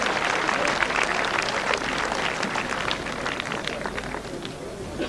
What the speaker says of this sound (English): and there's the applause